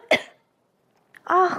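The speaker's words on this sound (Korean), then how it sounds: "이번엔 기침이 터졌습니다." Two coughs from a person with allergic rhinitis: one short, sharp cough, then a pause, then a longer, rougher cough with a voiced tail, close and clear.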